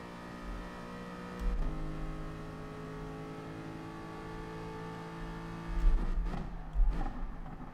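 Bugatti Veyron race cars in Gran Turismo Sport at Monza, a sustained engine whine with shifting pitch and a few gear-change bursts, fairly quiet and heard alone.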